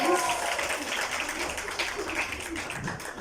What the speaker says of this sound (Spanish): Un aplauso para Jamie también.